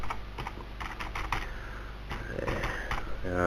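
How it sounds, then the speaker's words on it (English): Someone types a website address on a computer keyboard in a run of quick, close key clicks with brief pauses, setting up a WordPress site's search listing. "Just typing in your URL, click continue."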